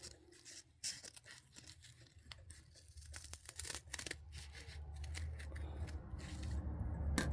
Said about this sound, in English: these that are in the middle right here, I'm going to cut. Because we're going to make Mr.